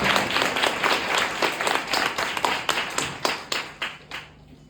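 Church congregation clapping in unison at a sermon, a strong regular beat of hand claps that thins out and ends near the close.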